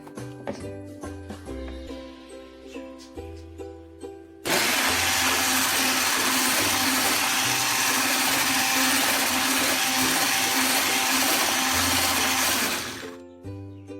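An electric hand mixer whisks cake batter with vanilla, flour and baking powder, a loud continuous whirring drone that starts abruptly and runs steadily for several seconds before cutting off, after quieter background sounds.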